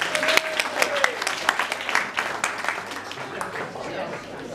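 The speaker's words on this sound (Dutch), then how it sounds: "Dus een hartelijk applaus voor Astrid." An audience claps for a music accompanist at a gathering, bursts of hand claps ringing out clearly at first and thinning toward the end, with some voices murmuring underneath.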